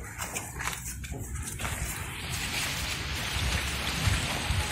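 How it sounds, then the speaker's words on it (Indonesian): Heavy rain pours down on a papaya garden, a dense, steady hiss of drops on leaves and ground that builds and fills the scene, with a few louder spatters and no voices. "Oke, hujan telah mengguyur"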